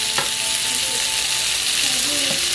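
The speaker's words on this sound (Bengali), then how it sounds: "মশলার সাথে ভেজে নেব।" Spices sizzle and fry steadily in a pan for a chicken and green jackfruit curry, a continuous close hiss with faint stirring scrapes and no talk.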